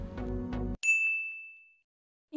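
A single bright notification bell dings right after a short musical sting, ringing clearly and then decaying smoothly into silence before a new sound begins at the very end.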